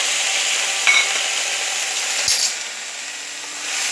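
Ginger garlic paste sizzles in a hot pan while a spatula stirs it, a steady bright frying hiss with a couple of scraping strokes, the sizzle easing slightly toward the end, no voices.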